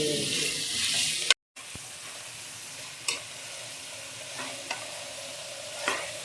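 A pan of eleven kinds of vegetables sautés with a loud hiss at first, a brief cut to silence, then quieter sizzling broken by a few scattered scrapes of a spoon against the pan.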